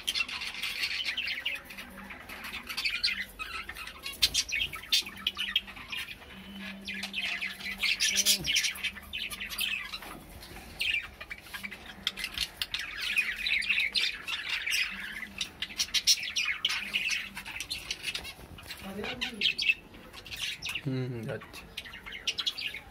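Small orange-beaked pet birds kept indoors squawk and chirp continuously at close range, with sharp repeated calls, a few wing flutters and occasional human talk in the room.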